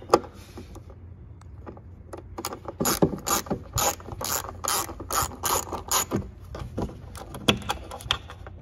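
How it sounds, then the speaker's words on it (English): A ratchet working a 10 mm bolt in the engine bay of a 2015–2017 Ford Edge 2.7L V6, close rapid clicking strokes in repeated bursts with short pauses and metallic rattles. "we're just gonna unscrew this and unscrew that"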